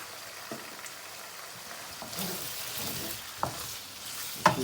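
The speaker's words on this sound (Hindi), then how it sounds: "हम फ्लेम अपना तेज़ कर देंगे और इसको तकरीबन 5 मिनट के लिए भूनेंगे" Garlic ginger paste and chicken frying over high flame in a karahi, a soft crackling sizzle with occasional louder stirring scrapes and clinks, close but fairly quiet.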